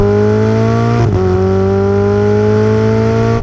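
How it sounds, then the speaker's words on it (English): A powerful Ferrari 488 GTB engine drones loudly at high revs, heard from inside the car, with a quick shift-like dip in pitch before the roar climbs steadily again. "It's a great sounding car."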